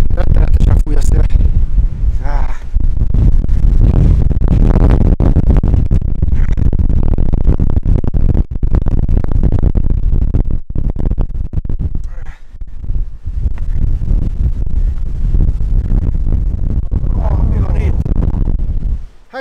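Strong wind buffets the microphone outdoors in Istria, a loud, continuous rumbling roar with gusts that swell and ease, and voices are heard at times underneath.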